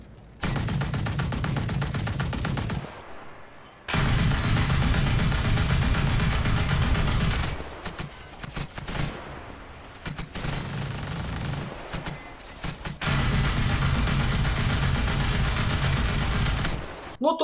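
A tank machine gun in the video game War Thunder fires in loud sustained bursts, separated by brief pauses and quieter stretches.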